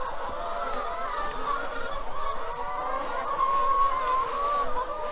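Laying hens in a barn cluck and murmur in a close, continuous chorus of overlapping calls, with a few louder drawn-out notes rising above the flock.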